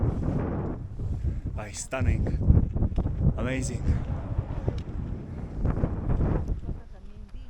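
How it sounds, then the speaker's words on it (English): Wind gusts across the microphone on the Vinicunca mountain trek in Peru, a continuous low buffeting roar beneath a person speaking briefly. "It's a little bit windy."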